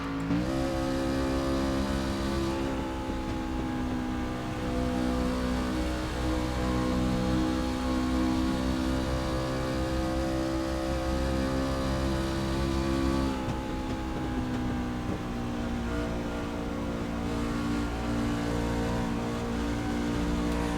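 Onboard a race truck lapping Pocono Raceway, the engine roars loud and close throughout, revving up with rising pitch, shifting, then pulling hard again with a constant drone of wind and road noise.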